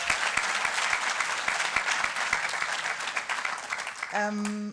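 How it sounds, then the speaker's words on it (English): Audience applause at the IDFA 2019 documentary film festival awards ceremony: steady dense clapping from a large crowd filling the hall, fading out as a voice begins speaking at the end. "More clapping, yeah."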